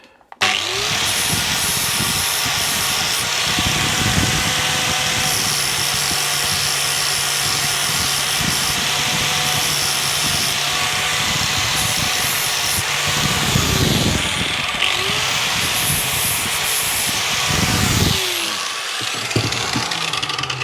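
A power grinder whines loudly and steadily against the back edge of a Mountfield HP45 lawn mower blade, continuous close metal grinding with brief surges in pitch and pressure, no speech.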